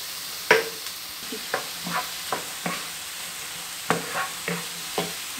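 Onions cook in a frying pan with steady sizzling, broken by a series of sharp scraping clicks and knocks as a utensil stirs them, close and moderately loud.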